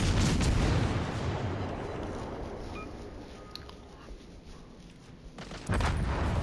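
A naval gun salvo in World of Warships Legends: a loud, heavy boom that fades into a long rumbling tail, with another sharp blast near the end.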